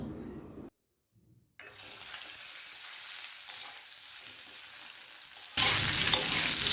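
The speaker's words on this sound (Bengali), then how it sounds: "গ্যাসটাকে এবার মিডিয়াম টু হাই ফ্লেমে রেখে আলুটা তিন থেকে চার মিনিট ভেজে নেব" Boiled potatoes fry with whole cumin seeds in a pan over a medium-high flame, a hissing sizzle that stops briefly, resumes more gently, then swells into a louder, denser frying noise at the end.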